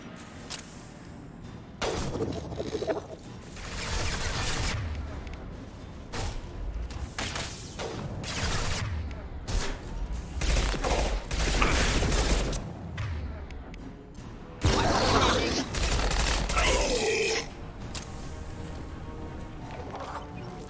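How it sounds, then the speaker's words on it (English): Heavy sci-fi weapon blasts from a high-impact shot in the video game Spaceman, loud booming impacts with a broad rumbling crash in the middle, amid dense game effects and music. "Firing a high-impact shot."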